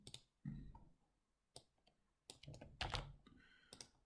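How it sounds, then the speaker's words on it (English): Quiet computer keyboard typing while entering login credentials, short bursts of close clicking keystrokes separated by silent pauses, soft and sparse with no talking. "I'm going to type them out."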